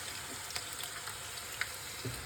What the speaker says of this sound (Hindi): और अब यहाँ पर प्याज मेरे फ्राई हो रहे हैं